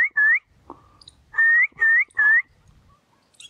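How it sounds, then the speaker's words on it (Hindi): A man whistles to call farm dogs in a village field: four loud, near, rising whistle blasts, the first alone and the last three in quick succession, with faint low background noise between them. "अगर घर पे हुए तो वो ज़रूर आएंगे जब मैं सीटी मारूंगा तब।"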